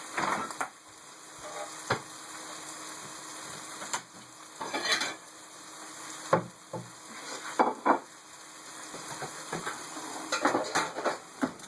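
Carnitas pork browning in a pot gives a soft, low sizzle. Several scattered clinks and scrapes of a utensil against the pot come and go, close but fairly quiet.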